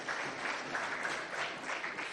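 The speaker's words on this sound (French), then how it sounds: "Applaudissez très fort pour vous." A school audience of pupils in Moundou claps steadily for classmates who competed, a dense, even wash of many hands heard at a moderate distance with no talk over it.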